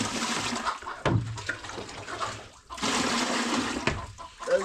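Water being fetched and poured from a tap, a broad rushing splash that runs steadily for about a second, breaks off, then resumes louder and continues to the end, with brief knocks between.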